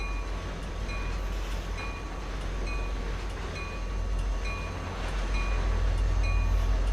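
An intermodal freight train runs in the Trainz railroad simulator, giving a steady, continuous rumble with faint sustained tonal hums and soft rhythmic clatter throughout. No voices are heard.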